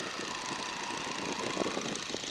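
A 1942 Boeing Stearman biplane's engine and propeller in flight make a loud, steady, close drone that swells slightly as it speeds up toward the end.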